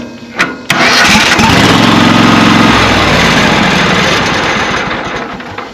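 A riding mower with an almost four-year-old battery cranks with a short hesitant click and then a loud, steady engine start that runs on and slowly fades slightly; no talking.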